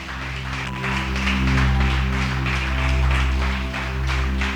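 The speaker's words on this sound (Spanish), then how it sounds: "Dale un fuerte aplauso a Jesús." A church congregation applauding during a sermon, a dense wash of clapping that swells and continues steadily over a low sustained background tone.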